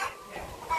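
Chickens cluck briefly near coops for sick birds on a poultry farm in Ghana, short clucks heard up close over a soft background.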